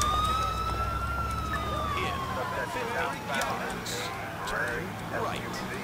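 An ambulance siren in Grand Theft Auto IV wails with a falling pitch over engine rumble and scattered impact noises, moderately loud and fairly close.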